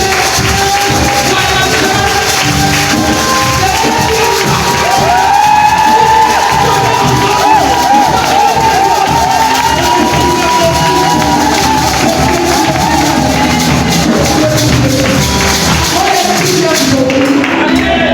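A church congregation at a French-speaking prayer gathering cheering and acclaiming: a loud, sustained wash of crowd voices with shouts and whoops, some children, and scattered claps running throughout.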